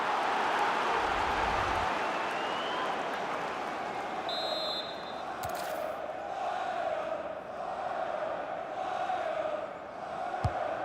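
A stadium crowd in the FIFA 19 football video game roars and murmurs steadily, swelling with anticipation during an attack, with a brief whistle-like tone and a few thumps partway through.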